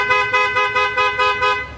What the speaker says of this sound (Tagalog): Then, try natin yung busina. Yung isa, twin block, boss yung tunog.